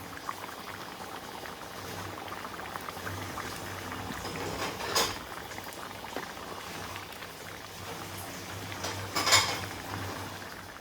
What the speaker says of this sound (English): Got this sauce bubbling away, creating a nice little thick curry.